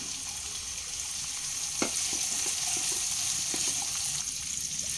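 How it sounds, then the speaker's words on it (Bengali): Chopped capsicum frying in a pan over a medium flame, a steady sizzle with a few faint utensil clicks and scrapes, close and continuous throughout. "1 মিনিট মতো একটু ভাজা ভাজা হতে দেব।"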